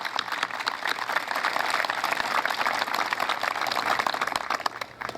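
Audience applause for a city council at a Korean War veterans memorial dedication in Johns Creek, a steady dense roar of clapping that holds for about five seconds, then begins to fade.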